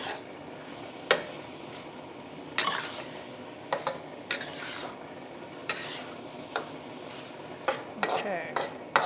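Chicken lettuce wrap filling is stirred and mixed in a pan, with scattered scraping and clinking strokes of a utensil against the pan at irregular intervals over a faint background, moderately close.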